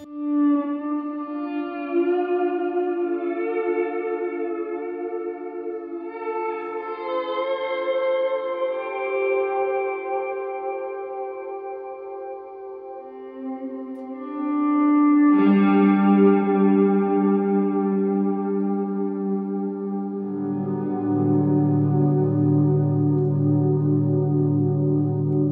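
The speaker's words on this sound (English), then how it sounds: "So in Rise, it's like an auto swell." Sustained guitar chords through a Walrus Audio reverb pedal in Rise auto-swell mode swell in softly and bloom with heavy reverb, long washy tails overlapping as new notes fade in, no attack audible.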